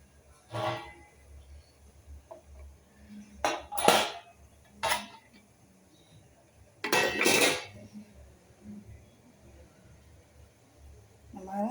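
A metal idiyappam steamer pot is lifted off a stove after steaming rice noodles, giving several sharp clanks and knocks spaced across the span, with quiet pauses between them.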